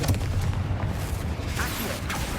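A Confringo blasting spell explodes in Hogwarts Legacy inside a tomb, giving a booming, rumbling blast with a few sharper crackling bursts over a couple of seconds.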